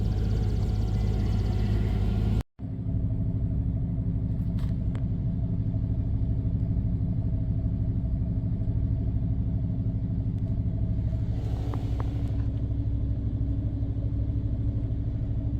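A 1999 Dodge Durango SLT's engine idles steadily and close up, a continuous low rumble that drops out for an instant early on, then carries on evenly with faint clicks above it.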